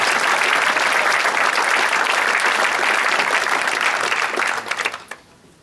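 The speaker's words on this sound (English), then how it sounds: "Give them a round of applause." A large audience applauds at a charity fundraiser auction, with loud, sustained clapping that tapers off at the end into near silence.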